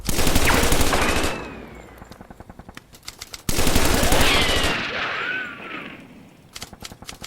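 A cinematic tabletop battle report for Bolt Action plays gunfire effects: loud bursts of rapid machine-gun fire in two waves, each trailing into scattered single shots and echoing crackle.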